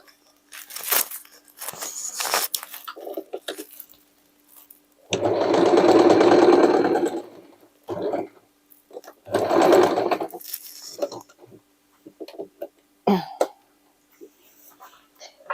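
A sewing machine stitches old-jeans denim pieces into a hooded jacket, running in loud close bursts of about three seconds and a shorter one, separated by quieter handling clicks and rustles.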